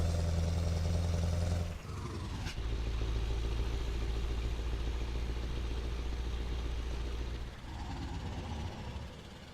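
A V8 truck engine with open pipes rumbles steadily in Euro Truck Simulator 2. The loud, deep drone runs throughout, with brief dips in level near two seconds and again near eight seconds as the revs shift.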